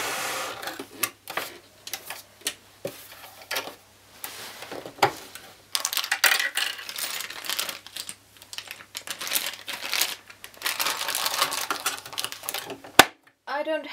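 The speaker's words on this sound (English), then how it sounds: "start sewing" A sewing machine stitches a pleated skirt with a zipper in short bursts of rapid whirring and clicking, with pauses between runs, under a speaking voice.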